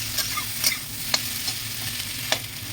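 Elephant foot yam frying in a pan in a home kitchen, a steady low sizzle broken by a few sharp clicks and scrapes of stirring, close and fairly quiet.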